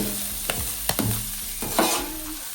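Vegetables are being stirred in hot oil in a pan while cooking lobster at home. There is a close, steady sizzle with a few sharp scraping clacks of the utensil against the pan.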